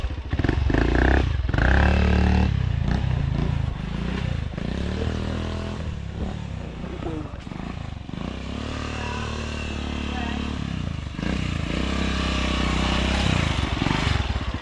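A motorcycle engine runs in Kampala, Uganda, a loud, rough throbbing that rises and falls with throttle, close by and continuous throughout.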